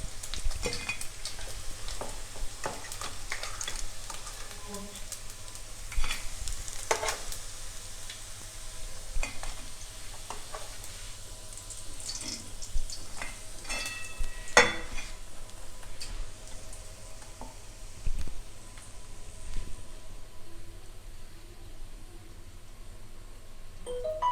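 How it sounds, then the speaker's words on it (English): Steady oily sizzling and crackling of pork ribs frying in their own fat in a pan, with occasional clinks and scrapes of a utensil; no talking. "The pork is frying it by its own oil."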